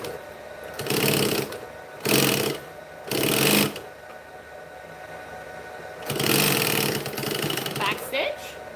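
A sewing machine top stitches fabric pieces that are still chained together, running in short, close bursts separated by gaps, with speech heard between the stitching runs.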